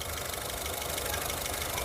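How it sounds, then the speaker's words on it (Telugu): A 2019 Honda City ZX CVT petrol car idles with a steady, even engine drone and a faint low rumble, continuous and close throughout with no other sounds. "సార్ చూశారు కదా, ఇంజిన్ స్టార్ట్ చేసే ఉంది"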